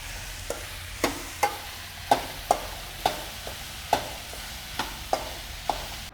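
Okra frying on a high flame in a pan makes a soft background sizzle, punctuated by a dozen sharp spatula taps and scrapes at an uneven rhythm.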